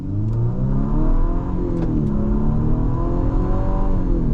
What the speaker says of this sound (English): So the 4-cylinder turbo is a little on the buzzy side.